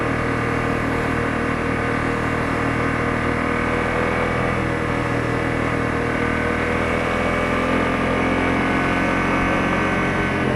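Honda CRF250L motorcycle riding along a wet, slushy winter street, a steady droning engine with constant road and wind noise, close and loud throughout.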